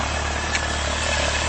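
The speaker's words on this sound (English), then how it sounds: "Let's have a listen to that engine" A Honda CB1300S motorcycle engine idles steadily nearby, a smooth continuous low purr with a faint whirring hum above it, no voices.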